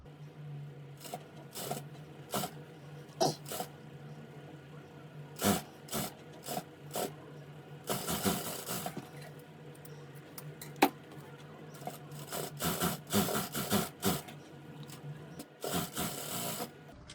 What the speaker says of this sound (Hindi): कितनी आसानी के साथ सिलाई हो रही है यहाँ पर